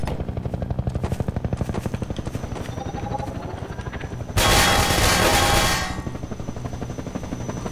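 Rapid automatic gunfire in Half-Life 2: Episode Two, aimed at a garden gnome: a steady, loud rattle of shots running throughout, with a louder, harsher burst of fire near the end.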